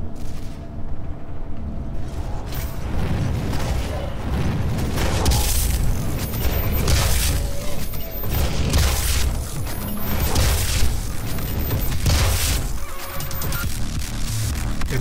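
Gauss cannon fire in the video game Doom, heard as repeated loud booming blasts and crashes through a dense, continuous barrage of explosive combat sound with no pauses.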